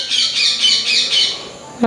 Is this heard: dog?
no